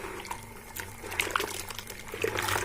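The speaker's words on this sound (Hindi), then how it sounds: "इसको मैं अच्छे से मिक्स कर लेती हूँ गोबर को" Close, quiet wet squelching and dribbling as cow dung is mixed by hand for plastering, with soft irregular splashes and no talk.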